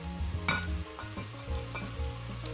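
Dark soy sauce hits sizzling aromatics in a hot pan for beef noodle soup, a steady close frying sizzle with scraping stirs throughout and no talk.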